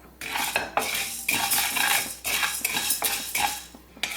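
Whole urad dal dry-roasting in a pan, heard as a spoon clattering and scraping against metal in irregular bursts, close and loud, with no talk.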